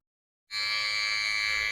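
An electric trimmer starts up and runs steadily through a beard, a bright continuous buzz close to the microphone after a brief silence.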